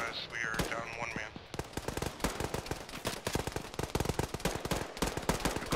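Dense automatic gunfire from Arma 3 combat, rapid loud bursts and overlapping shots rattling almost continuously, with voices talking over the fire.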